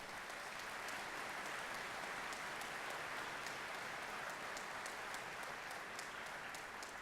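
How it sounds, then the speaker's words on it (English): An assembly audience gives board members a steady round of applause, dense and even throughout with crisp individual claps standing out, heard at a moderate distance with no talk over it. "give them a round of applause as well"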